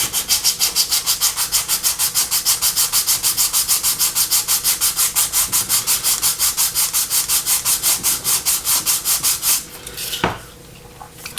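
Sandpaper is rubbed back and forth on a plastic part from an Airfix 1:72 BAE Hawk model kit. The close scratchy strokes come in a fast, steady rhythm for about ten seconds and then stop.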